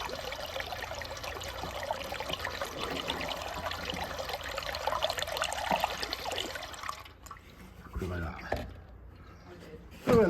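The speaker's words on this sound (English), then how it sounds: "She's now filled up with antifreezing water." Blue antifreeze coolant poured into a Massey Ferguson MF 1250 tractor, a steady liquid trickle and gurgle close by that stops partway through, with someone talking over it.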